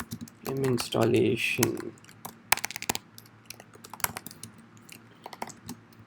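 A person speaks briefly, then typing on a computer keyboard follows as scattered sharp key clicks, close and fairly loud, in an irregular rhythm.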